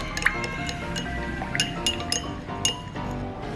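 A spoon clinks repeatedly against the sides of a mug while stirring Vietnamese coffee with condensed milk, quick irregular metallic taps close up and fairly loud.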